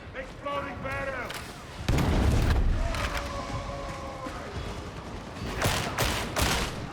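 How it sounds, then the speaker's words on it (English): An exploding barrel in Darktide goes off as a loud, sudden blast partway through, then rumbles on with further bangs. Voices talk before and after it. "Get back! Exploding barrel!"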